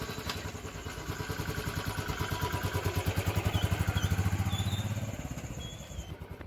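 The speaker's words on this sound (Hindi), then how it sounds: "चलिए इमोशन को ताज़ा करते हैं और किक से स्टार्ट करते हैं" A Royal Enfield Bullet 350 BS6 motorcycle fires up by kick start and settles into its steady, thumping single-cylinder idle, close and rhythmic, swelling slightly before easing off, with no talk.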